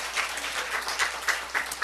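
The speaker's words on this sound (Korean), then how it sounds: "하나님께 박수 올려드려요." A church congregation at a Sunday service applauds briefly, a short run of close, rhythmic clapping with brighter individual claps standing out in even pulses.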